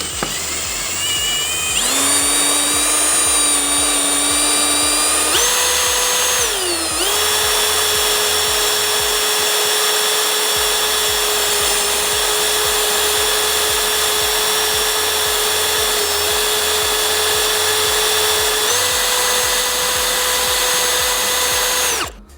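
A power drill with a blunt bit grinds into corroded bolts on a Land Rover Freelander 2 rear shock absorber mounting, giving a loud, close, continuous whine that shifts pitch a few times and runs unbroken without talk.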